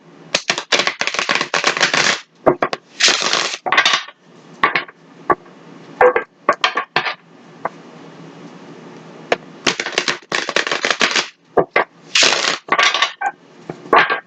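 A deck of tarot cards is shuffled in repeated bursts, each a crisp, close riffling flutter lasting a second or two, separated by brief quiet pauses, with no talking.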